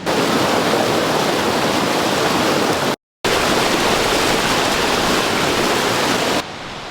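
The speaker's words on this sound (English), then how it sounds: "There's some river access down here and it's just surrounded by trees." A river rushes loudly and steadily among trees in the Colorado mountains, a dense broadband roar heard close up, cut by a brief gap near the middle.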